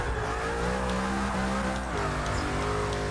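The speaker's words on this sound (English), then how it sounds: "you can shred the tires off" Ford GT in Forza Motorsport 6, bagged Gas Monkey Garage build, spinning its tires in first gear: a loud, steady engine drone with a shifting pitch and a tire squeal layered over it.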